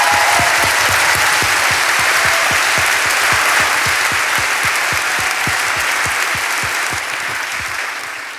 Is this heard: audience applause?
yes